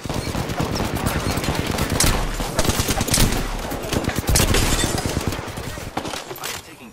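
Rapid gunfire in a shooter video game, dense automatic bursts continuing loud and close for several seconds, with a voice faintly in the background.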